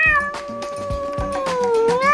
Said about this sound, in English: And why are my cats here?